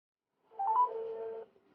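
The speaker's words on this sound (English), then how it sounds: "I will now dial this number on my phone" A single short phone dialing tone sounds as a call goes out to a SIM900A GSM module, a clean steady electronic tone, moderately quiet, alone against silence.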